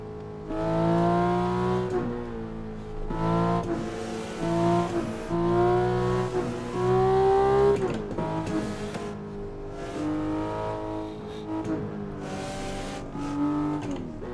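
Car racing on the Shutoko expressway track in the PC game Assetto Corsa: a loud, steady engine note that climbs and drops through repeated gear changes, with sustained revving throughout and no talk.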